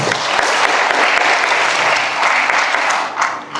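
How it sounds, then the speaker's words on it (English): Dense, sustained applause from a large audience at a graduation ceremony, a steady wash of many hands clapping together, loud and close, tapering slightly near the end. "Give her a round of applause, please"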